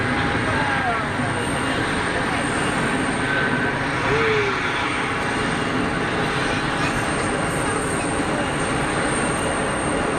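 A KLM Embraer airliner approaches Geneva Airport, a loud continuous broadband jet roar that holds steady at close range, with faint voices in the background.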